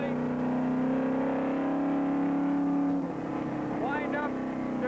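A 1964 race car engine held at high revs in 2nd gear through a tight right-hand corner at Road America, a steady loud droning tone that shifts pitch as the car winds up, with a voice talking over it.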